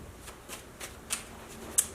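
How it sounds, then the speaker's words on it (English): Tarot cards are shuffled in the hands, a few soft riffling swishes at a steady pace, close and fairly quiet, with no talking. "let me get a few tarot cards here."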